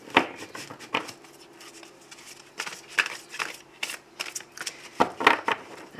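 Tarot cards shuffled by hand at close range, a series of quick riffling and sliding bursts with short pauses between them, no talking.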